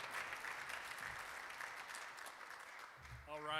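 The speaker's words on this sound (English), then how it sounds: "So let's give him a big round of applause." An audience at a Rotary club meeting applauds for a member's birthday, a faint, even wash of clapping from across the room, with a voice starting up at the very end.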